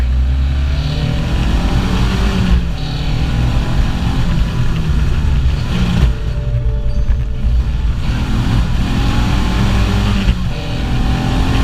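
A 1928 Frazer Nash saloon racing car's engine revs loudly and close, rising and falling through repeated pulls with gear-change dips, a continuous raw mechanical roar with no voices.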